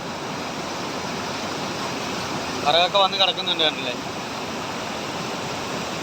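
Powerful river water rushes over rocks near a village shrine, a dense, loud continuous roar throughout, with a person speaking briefly over it midway.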